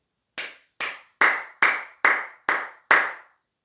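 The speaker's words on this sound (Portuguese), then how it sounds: "E depois a gente tem a palma normal." Seven plain hand claps in the normal palm style, crisp and close, spaced at an even rhythm of about two per second, with no other sound.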